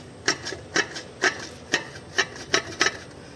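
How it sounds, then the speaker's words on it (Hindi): A worn flywheel with play on a Mahindra XUV300 diesel knocks in a steady series of about eight dull clunks, roughly two per second, close by and with no talk. "आवाज़ जो था फ्राईव्हील का था, देखिए यही आवाज़ था।"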